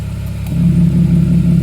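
Porsche 997.2 engine running with its valved sport exhaust opened, a steady low rumble that swells louder and fuller partway through and holds, close and alone.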